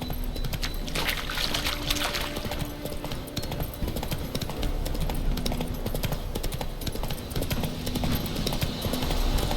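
Horse hooves clip-clopping at a steady walking pace in The Witcher 3, close and rhythmic over a soft outdoor background, with no talking.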